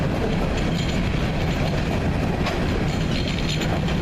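A CN freight train rolls past northbound, loud and close, a dense continuous rumble with rattling railcars and clickety-clack from the wheels throughout.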